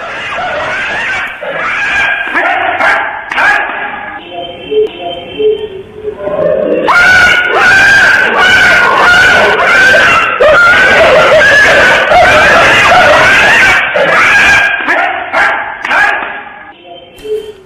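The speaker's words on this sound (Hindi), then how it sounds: "छोटे बच्चे पर एक कुत्ता हमला कर देता है।" A dog attacks a small child in Pune, Maharashtra, with loud, repeated barking and yelps mixed with a child's screaming and other voices, growing frantic and dense through the middle before tapering off.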